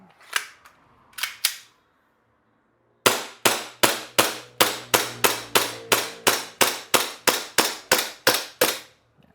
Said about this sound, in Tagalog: Tapos mas gaganda pa ang putok ng unit kapag itong magazine na to.